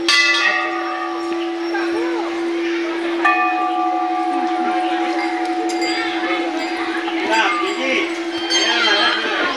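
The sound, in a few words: large temple bells ringing at Maa Ghanteswari temple, Sambalpur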